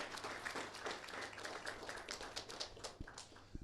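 Steady applause from a crowd at a high school signing day, a dense wash of clapping that holds throughout and thins slightly near the end.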